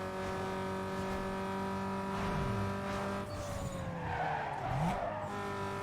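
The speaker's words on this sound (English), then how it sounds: "The power slide there." Tires squeal in a car's power slide in Need for Speed Underground 2, two swooping skids rising over a loud, steady engine drone, with no voice on top.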